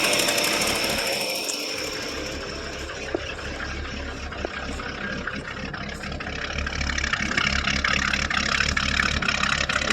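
A 1972 Chevy K10 pickup with dual exhaust idles with a minor exhaust leak on the right side, giving a rough, rapid ticking putter over a low steady rumble that continues throughout at close range, without any talk.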